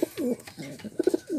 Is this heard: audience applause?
no